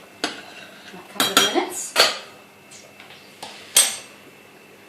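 Gluten-free pasta is stirred in a cooking pot, with a handful of sharp metallic clinks and scrapes of the utensil against the pot spaced irregularly over quiet simmering, and a voice speaks briefly.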